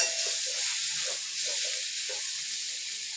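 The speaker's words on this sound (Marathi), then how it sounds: "इकडे ना मस्त अशी मी फोडणी दिली अद्रक लसूण घालून" Spices with ginger and garlic sizzle in hot oil, a bright continuous hiss with faint crackles underneath, close and steady.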